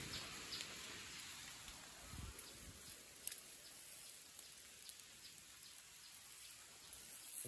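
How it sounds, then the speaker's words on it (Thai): Rain falls through a forest at Naga Cave in Bueng Kan, a faint, steady patter of drops on leaves and ground with occasional louder splashes and rustles, and no one speaking. "ขออภัยนะครับที่ฝนตกแล้วถ่ายยากลำบากมาก"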